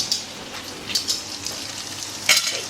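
Bacon sizzles steadily in a frying pan for a home breakfast, with a continuous hiss and crackle, occasional sharper pops, and nobody talking.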